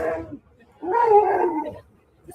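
A pet dog whines and howls for food, making two drawn-out, close vocal cries separated by a short pause.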